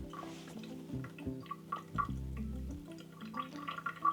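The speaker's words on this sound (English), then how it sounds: "Now I just hang it upside down like this for a bit." Water drips steadily from a leather cowboy boot hung upside down to drain, a series of faint, quiet plinks and small splashes at an uneven rhythm.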